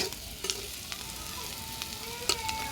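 Tiny shrimp frying in a pan with a little onion, a quiet continuous sizzle with occasional light spatula scrapes and clicks, with a faint tonal hum in the background.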